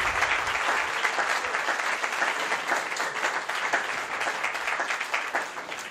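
Continuous applause from an audience at the end of a French history lecture, a dense, moderately distant wash of clapping that holds steady and tapers slightly at the end.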